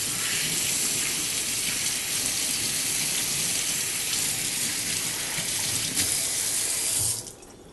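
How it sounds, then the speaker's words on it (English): Tap water runs steadily into a kitchen sink while hands are rinsed, a loud, close, continuous hiss that cuts off abruptly near the end. "let me rinse my hands just a sec"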